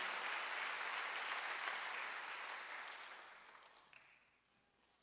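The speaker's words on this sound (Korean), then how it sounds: "박수 한번 해주세요." Applause from a church congregation at a Wednesday worship service, a steady wash of clapping that gradually fades out, leaving near silence with a last faint sound at the very end.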